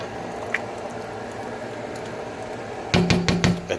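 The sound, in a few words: stirring half and half into corn and crab chowder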